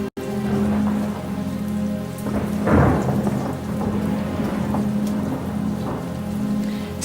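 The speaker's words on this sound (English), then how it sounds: "Still, the rain lashed down." Heavy rain lashes down steadily during a thunderstorm, with a deep roll of thunder swelling midway; loud and close, with no voices.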